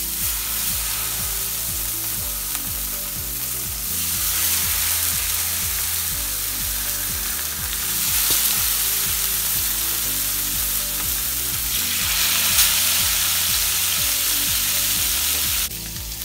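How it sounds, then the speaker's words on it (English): Salmon fillets sear skin side down in olive oil and butter over high heat on a grill, giving a steady, loud, continuous sizzle with no voices. "we're gonna put it on our grill. Olive oil, a little bit of butter on high heat,"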